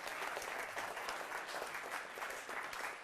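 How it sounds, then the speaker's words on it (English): Dense, steady applause from a theater audience at a mentalism show, a continuous wash of clapping that holds at the same level for the full stretch with no voices on top. "give her a nice round of applause, please"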